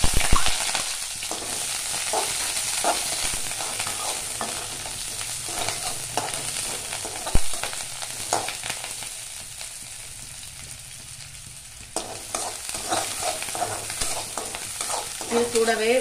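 Chopped onion, green chili and curry leaves frying with mustard seeds in hot oil, a continuous close sizzle with repeated spatula scrapes and stirring clatter throughout.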